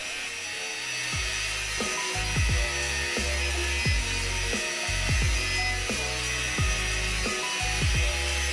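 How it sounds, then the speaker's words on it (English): A belt grinder shapes a Damascus steel knife handle in short, repeated passes, each a fairly quiet burst of whirring and grinding with brief pauses between. "For that I will use the corner of my belt grinder and also the wheel to get in all the radii."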